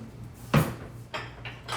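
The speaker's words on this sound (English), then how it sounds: "So we're just mixing the scallion with the tuna, raw tuna, and pepper sauce, Grandma's Trini pepper sauce, and then the sesame oil and soy sauce" Raw tuna being stirred with scallion, Trini pepper sauce, sesame oil and soy sauce in a bowl at home, giving a few soft scraping and clinking knocks of utensil against dish, close and fairly quiet, with no talking.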